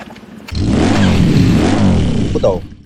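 A homemade motorcycle engine on a test run bursts into a loud, close rev that swells and falls back in a rough, sustained roar lasting a couple of seconds.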